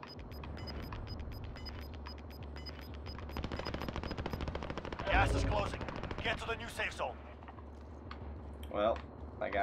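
Gunfire in the Modern Warfare Warzone video game: rapid bursts of automatic shots rattling through the background, with a louder close burst midway and more shots near the end, all under continuous game sound and a talking voice.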